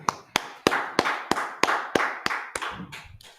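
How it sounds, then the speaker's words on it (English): Hands clap in a slow, steady rhythm, about ten sharp, close claps evenly spaced, with a faint reverberant tail after each one. "Clap it up."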